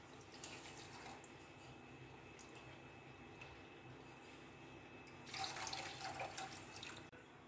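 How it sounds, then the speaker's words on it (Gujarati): Water is poured into a pan of sugar to make jeera soda syrup: a steady, faint splashing trickle that swells into a brighter, louder pour near the end, with no talking. "જે 2 કપ ભરીને આપણે ખાંડ લીધી છે તે જ 2 કપ ભરીને આપણે આમાં પાણી"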